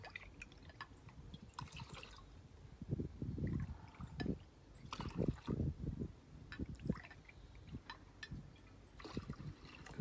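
Pink grapefruit citrus cordial, about 150 ml, poured into a mixing jug: close, uneven liquid gurgles and trickles in bursts, with small drips in between and no talking.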